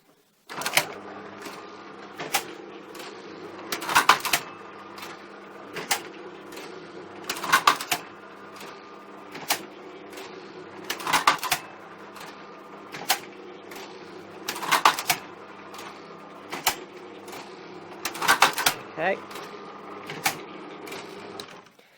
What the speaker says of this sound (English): nothing on the machine should be engaging with the motor while we do this dry run